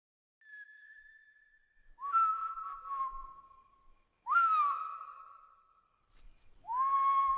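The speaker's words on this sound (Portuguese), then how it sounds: "quando você estiver pelas matas do interior e ouvir esse assobio" An eerie whistle in the woods of the Brazilian interior, linked to the Matinta legend, comes as several separate long tonal calls, some sliding and wavering, faint and alone against near silence.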